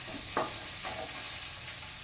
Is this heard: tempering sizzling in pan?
yes